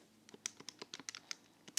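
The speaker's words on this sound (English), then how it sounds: "typing in my calculator" Quick run of light plastic key presses on a handheld calculator keypad, about a dozen close taps in an uneven rhythm, quiet and with no talking.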